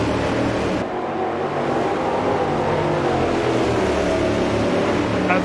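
Race car engines roar in a sim racing league event at the Cascavel circuit, a steady, loud, continuous engine drone with no gaps and no voices.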